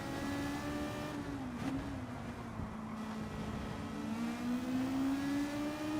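Race car engines in Gran Turismo 7 hold a steady, loud drone with a slowly rising and falling pitch as two cars battle ahead, continuous with no talk.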